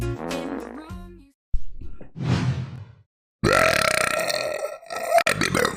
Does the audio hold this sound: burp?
yes